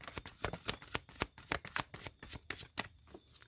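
A deck of tarot cards is shuffled close up, a quick series of crisp riffling flutters and soft slaps in an uneven rhythm, with no voice over it.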